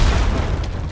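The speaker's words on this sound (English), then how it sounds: "Something finally exploded." A single explosion in the naval video game Atlas, a loud, deep boom whose low rumble fills the whole short moment and fades slightly at the end, with no voices.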